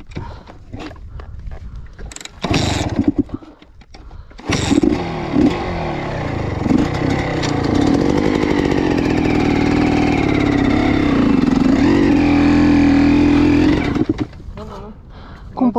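A motorcycle engine is started and revved: brief mechanical clicks and voices come first, then the engine catches and runs with a loud rising and falling rev for about ten seconds before it drops off.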